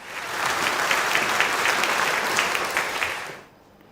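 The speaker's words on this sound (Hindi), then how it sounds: "तालियां बनती हैं।" Studio audience applause fills a televised Ramadan quiz show, a dense, steady burst of many hands clapping at close range that cuts off abruptly near the end.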